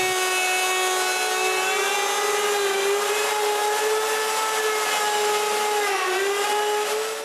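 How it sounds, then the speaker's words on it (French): A wood lathe with a large copying bit clearing out the inside of a wooden bowl gives a loud, steady whining cut with a sustained ringing tone that holds throughout and dips briefly near the end. "j'utilise une grosse mèche à copier pour nettoyer l'intérieur du bol."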